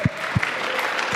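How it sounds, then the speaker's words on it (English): Audience applause at a keynote talk, a dense steady wash of many hands clapping with a few low thumps, fairly close and continuous for about a second. "Give them a round of applause."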